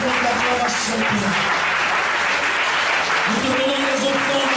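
A church congregation at an Easter service applauds loudly and continuously while voices sing or cry out in acclamation over the clapping, with sustained vocal tones running through.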